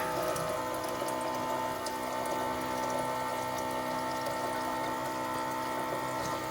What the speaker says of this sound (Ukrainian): І набираємо чайник.